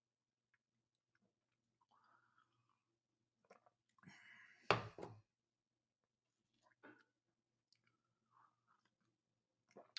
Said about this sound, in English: Let's eat some cereal.